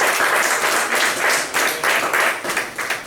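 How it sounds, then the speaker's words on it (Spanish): A church congregation applauds, a dense, loud wash of clapping from many hands that swells and dips in pulses for a few seconds. "Denle un aplauso al Señor"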